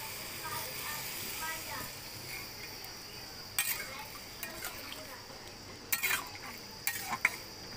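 Spinach (pui shak) and chuna fish with green chilli stir-cooking in a pan, with a steady low sizzle and a few scraping, clinking strokes of a spatula toward the end.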